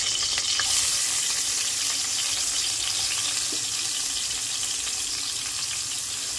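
Minced garlic frying in cooking oil in a home kitchen pan, a steady, close hissing sizzle that holds evenly throughout with no talking over it.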